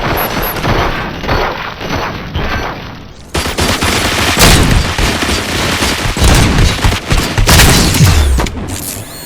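Loud, sustained gunfire in RoboCop: Rogue City, dense volleys of shots and booming impacts that continue almost without pause, with a brief quieter stretch at the start before the shooting intensifies.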